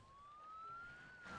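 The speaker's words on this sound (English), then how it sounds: "you can already hear the siren" A faint police siren in a video game wails in the distance, its tone slowly rising, quiet and steady under a low background hiss.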